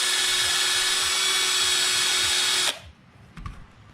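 Rotary tool spinning inside an aluminum engine exhaust port while polishing it, a loud steady high-pitched whine that cuts off abruptly near the end, leaving faint clicks.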